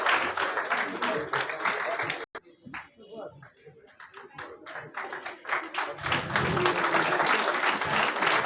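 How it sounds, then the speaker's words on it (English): Applause at a school awards ceremony for a consumer awareness program, clapping that dips briefly into scattered claps, then swells back to a full steady round from the audience. "A huge round of applause for her."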